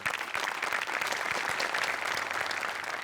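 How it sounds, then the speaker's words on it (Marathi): Studio audience applauding through a Marathi comedy show taping, steady dense clapping that holds from start to finish without a break. "आमिर हडकरसाठी एकदा जोरदार टाळ्या"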